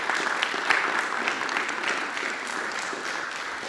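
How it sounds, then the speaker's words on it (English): Steady applause from a meeting audience at a musical theatre group's annual general meeting, a dense wash of clapping holding even for a few seconds with no talk. "if we could give them an applause, James Taylor, Ashleen Fahey, Gina Fowler"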